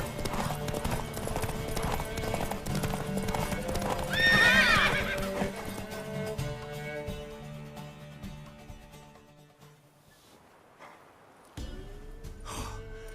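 A horse in The Witcher 3 video game clip-clops with rhythmic hoofbeats and lets out a loud whinny partway through, then the hooves and other sounds fade away.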